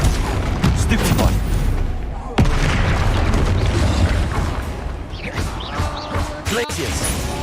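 Spellcasting in the Hogwarts Legacy video game on PS5, with a sharp Stupefy hit among loud booms, crashes and bursts, while a person talks over the busy combat.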